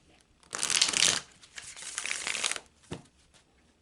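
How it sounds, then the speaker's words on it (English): Tarot cards are riffled and shuffled close by in a dense, papery burst, followed by softer sliding and a brief tap, with no talking. "So I'm shuffling that into the cards."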